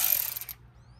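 A screw comes out of a VW Golf MK7 fender liner with a brief, close ratcheting whir that stops after about half a second, leaving near quiet.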